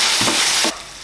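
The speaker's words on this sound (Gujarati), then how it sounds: "અને હવે આપણે એને મિક્સ કરી લઈએ।" Stirring chilli paneer sauce of ginger-garlic paste, tomato ketchup, soy sauce and white pepper in a hot pan, a close sizzling hiss with a couple of scraping strokes before the sizzle drops quieter.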